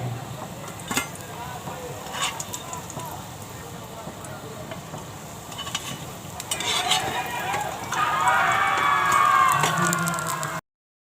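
Raw banana slices sizzling in hot oil, a soft steady crackle with occasional clinks of a utensil, growing louder and denser toward the end; a voice talks over parts of it.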